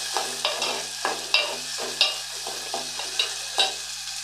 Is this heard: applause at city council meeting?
no